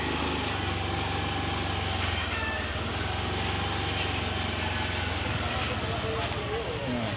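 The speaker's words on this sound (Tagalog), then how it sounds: "At papatayin natin ang makina." A motorcycle engine idles steadily at a low, even rumble, fairly faint beneath a broad background hiss.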